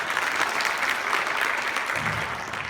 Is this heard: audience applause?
yes